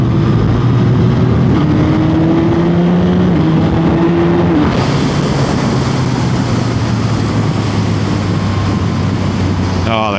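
A motorcycle engine runs steadily and loudly throughout, its pitch shifting in steps as it revs and settles, with a faint voice underneath.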